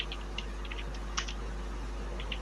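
Scattered, light clicks of someone typing HTML code on a computer keyboard, quiet and irregular against a low steady hum, with no voices.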